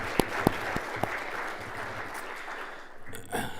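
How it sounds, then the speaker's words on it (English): A round of audience applause for the Irvine City Council at the Celebrate Irvine 2021 event, many hands clapping steadily with a few sharp, close claps early on before the sound thins and settles. "Let's give them another round of applause for the great service that they provide."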